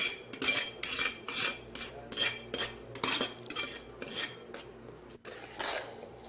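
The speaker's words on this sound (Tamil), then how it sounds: "இதை நல்லா அடியோடு நல்லா கிளறி விட்டுக்கோங்க" Three-quarter-cooked rice being stirred into gravy in a pot, a rhythmic series of about ten scraping, rasping strokes of a spoon against the pot bottom, close and clear with no talking.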